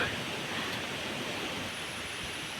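Phlio waterfall in Chanthaburi gives off a broad, steady rushing roar of falling water, heard from some distance as a continuous wash of noise.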